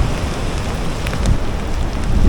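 Steady rain falling at a rocky coastal fishing spot in Gunung Kidul, Jogja, a dense continuous hiss of drops that swells slightly louder toward the end, with no voices.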